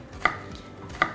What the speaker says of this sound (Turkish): bir tane soğanı bu şekilde doğrayacaksınız